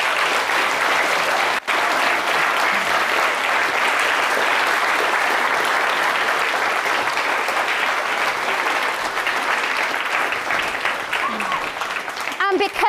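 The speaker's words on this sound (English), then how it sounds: "let's give you a great big round of applause" A large audience at a Shakespeare performance grand final gives sustained, loud applause, a dense wash of clapping that continues steadily throughout and fades slightly at the very end.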